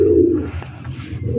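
Pigeons cooing close by on freshly laid sand, a steady low warbling coo that carries through the whole moment with soft murmuring layers.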